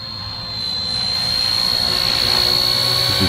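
A small RC ERA Bell 206 model helicopter hovers nearby with a steady high-pitched whine and smooth rotor hum that swells slightly and then holds even.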